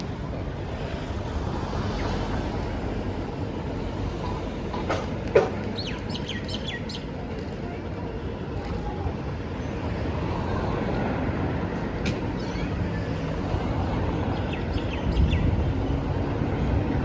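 A Z3 class tram on route 67 rolls past with a steady, broad low rumble lasting throughout, while faint bird chirps sound above it.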